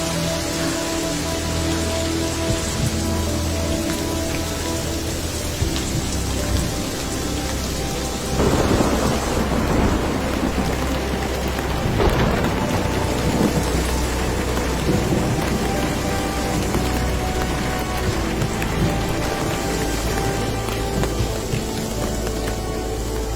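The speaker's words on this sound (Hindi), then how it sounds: "बिजली कड़क रही है और मुझे जल्दी से जल्दी घर पहुंचना है। तेज बारिश हो रही है।" Heavy rain pours steadily throughout a thunderstorm, with a deep rolling thunder rumble swelling midway and a second roll following, loud and close, with no voices.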